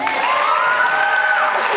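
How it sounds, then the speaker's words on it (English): A high school graduation audience applauds and cheers in a large hall, steady dense clapping with whoops and a few shrill voices rising above it, continuous throughout. "I guess the holding your applause idea is not a good idea. We should all cheer each time."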